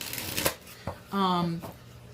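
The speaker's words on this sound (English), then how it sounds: "I'm gonna go ahead and I'm gonna shuffle my cards" Quick papery riffle of a tarot card shuffle, a couple of short bursts close by, with a voiced hum or murmur partway through.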